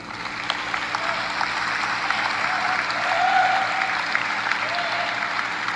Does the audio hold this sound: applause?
yes